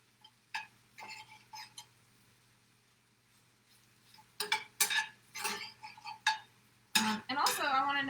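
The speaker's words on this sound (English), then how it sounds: "Mix it until it's evenly coated." A spoon works tofu scramble around a cast iron pan in short scraping, clinking strokes. The strokes are sparse at first, then cluster more densely and loudly toward the end.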